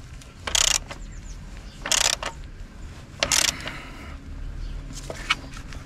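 Ratcheting clicks from tightening a battery terminal nut on a Renault Clio 4, in three short bursts of rapid metallic clicking with a few lighter taps between, close and fairly loud.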